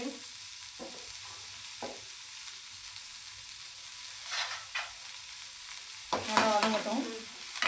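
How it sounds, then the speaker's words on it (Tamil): Medium-size onions dropped into hot oil for egg Maggi noodles, a thin steady sizzle broken by several short stirring and clattering bursts, close by without speech. "ஆயில் சூடாயிடுச்சு. இப்போ மீடியம் சைஸ் ஆனியன் சேர்த்துக்கலாம்."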